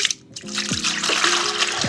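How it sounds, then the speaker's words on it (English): Melted butters for soap making pour into a container in a continuous splashing stream with gurgling bubbles, close and fairly loud. "Go ahead and pour in our melted"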